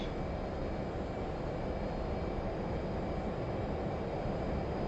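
Jet fighter engines spool up to takeoff power on an aircraft carrier catapult in a flight simulation game, a loud, steady, broadband roar that holds constant throughout with no voices.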